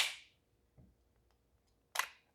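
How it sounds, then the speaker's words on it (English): Shield Arms Z9 magazine release on a P80 pistol with a mag insert: a sharp click as the release is pressed, a faint thud, then a second crisp clack as the magazine drops free, all quiet and close. "So when you have the mag insert in, you can hit the mag release. It falls out perfectly fine."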